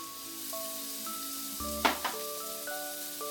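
Cooking oil heating in a wok for a pork spare rib and broccoli stir fry, a steady soft sizzle with a brief louder crackle and a metallic clink partway through.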